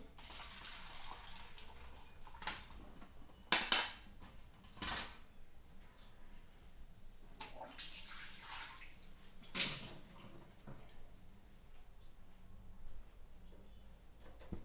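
Water is poured into a pan of boiling cabbage on a lowered gas flame, producing bursts of splashing and running water, loud at moments, then trailing into quieter trickles.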